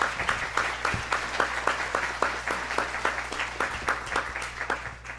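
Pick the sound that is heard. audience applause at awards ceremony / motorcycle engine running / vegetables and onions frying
audience applause at awards ceremony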